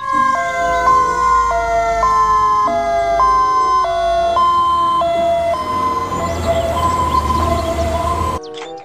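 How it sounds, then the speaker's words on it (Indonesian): A toy fire truck siren wails in a steady electronic up-and-down pattern, loud and close, running continuously before cutting off abruptly near the end. "mobil pemadam kebakaran besar"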